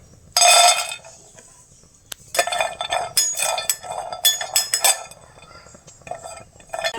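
Pistachios tossed in a dry pan on the stove, giving bursts of clinking, rattling nuts against metal, one loud cluster early, then a run of sharp, irregular clinks and scrapes, close and fairly loud with no talk.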